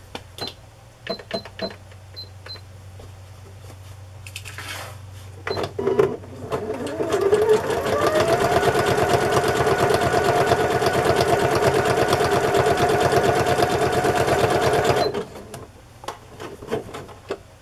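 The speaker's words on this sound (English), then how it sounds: "I put red thread in my sewing machine." A sewing machine zigzag stitching runs in a steady, rapid mechanical whir for several seconds, preceded and followed by small clicks and handling noises.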